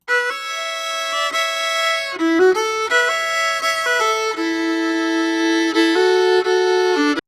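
A country-style string loop plays alone, a bright sustained melody of held, stepping notes with a few short rapid runs, steady and close throughout.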